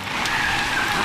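A car reverses with tires skidding, a brief, loud, continuous squeal over a hissing wash of noise in an action film scene.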